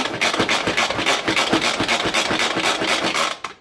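A Pampered Chef manual food processor holding lemonade salsa is shaken in quick, steady back-and-forth bursts, a dense rattling rasp repeating about every quarter second, loud and close, with no talking.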